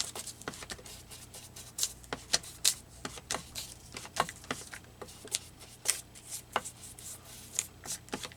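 Paper is torn and ripped along its edges for a collage. The result is a steady stream of close, crisp tearing and rustling crackles in quick irregular bursts.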